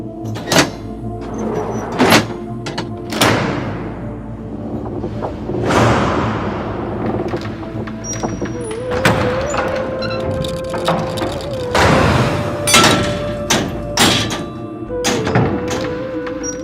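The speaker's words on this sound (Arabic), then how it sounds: "أبواب المسجد النبوي تغلق" Heavy doors of the Prophet's Mosque in Medina being shut, a series of loud thuds and bangs spaced through the scene with creaks and scraping between them, echoing in a large space.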